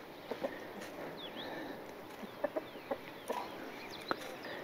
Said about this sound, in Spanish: Unos gallos y gallinas por aquí, tranquilo comiendo en el parque libre.